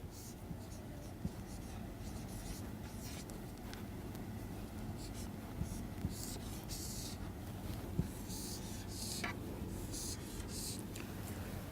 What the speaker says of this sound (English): We can write this equation again